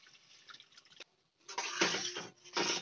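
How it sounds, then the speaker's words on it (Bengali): Water poured into a pan of sizzling mustard-poppy seed spice paste for an egg curry gravy, a brief drip and splash followed by a louder, steady bubbling hiss up close. "এবার আমি অল্প একটু জল দেবো গ্রেভিটা করার জন্য।"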